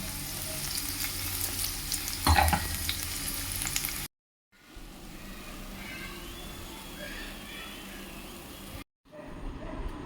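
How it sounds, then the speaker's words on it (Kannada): Okra stir-fry, bendekayi palya, sizzles and fries steadily in a pan, a continuous broadband hiss with a brief louder clatter, cut by two short silent gaps. "ಬೆಂಡೆಕಾಯಿ ಪಲ್ಯ ಮಾಡ್ತಾಯಿದ್ದೀನಿ"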